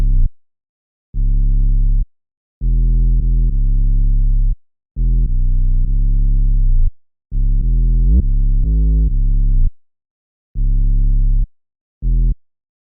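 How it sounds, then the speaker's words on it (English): A simple, deep synth bass line for a dancehall beat made in FL Studio plays alone, with clean, loud sustained notes in short phrases separated by brief gaps of silence. "Just a simple bass line."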